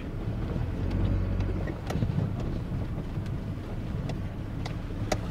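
Wind blows steadily outdoors at around 7–10 metres per second, a constant low rumble buffeting the microphone with occasional faint clicks and knocks.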